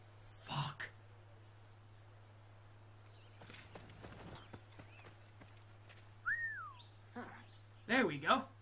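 Sharp whistles sound in Assassin's Creed: Rogue, a rising and falling tone around six seconds and a brief warbled burst near the end, with someone talking between them.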